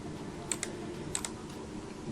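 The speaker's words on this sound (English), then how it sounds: "you simply press Shift and Page up on your keyboard" A few quiet key presses on a computer keyboard, sharp close clicks arriving in two pairs, alone over faint background hiss.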